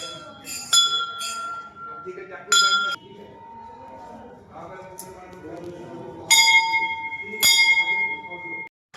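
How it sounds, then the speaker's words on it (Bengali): A temple bell is rung several times during a New Year visit, each bright metallic strike ringing out and decaying slowly over a murmur of voices and crowd noise. "আমি তো ঘন্টা বাজাতে পারছি না হাইটে এত খাটো বাট ঘন্টাটা বাজাচ্ছে"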